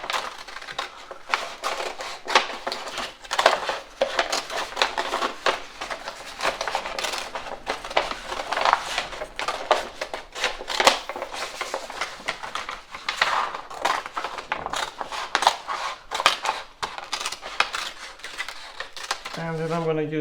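Scissors snipping through paper while cutting circles for paper flowers, a dense run of quick crisp cuts and rustles close by, with a voice talking over them.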